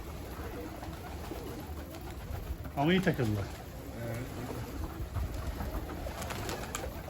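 A single soft pigeon coo sounds briefly amid quiet outdoor ambience, with people talking faintly nearby.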